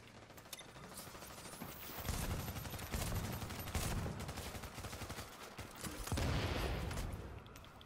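Bursts of G36 assault rifle fire in The Division's Dark Zone, rapid clattering volleys rising and falling over a busy mechanical backdrop, with louder stretches of sustained shooting midway and near the end.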